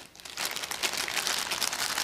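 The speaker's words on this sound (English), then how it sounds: "zip your bag up" A ziplock plastic bag crinkles while being zipped shut, a close, dense rustle of crackling plastic that starts after a brief quiet moment and continues steadily to the end.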